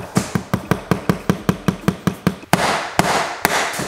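A hammer taps a nail into baseboard trim, about a dozen sharp, evenly spaced knocks close by, followed by a few harder, louder strikes over a rushing background.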